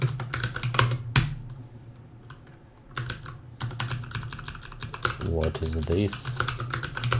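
Fingers tap out code on a computer keyboard in uneven bursts of close, clicky keystrokes, with brief pauses and a short spoken question partway through.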